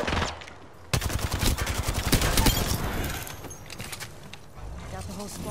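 Rapid, loud gunfire from the video game Wrath, with dense bursts of shots that swell after the first second and then continue more sparsely, while a player talks over the shooting.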